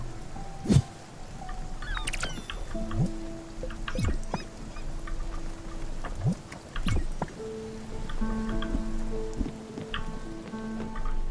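Rain in the video game Spiritfarer patters steadily under scattered game effects and soft tonal chimes, with a few sharper splashes and gentle whooshes over a faint, continuous wash.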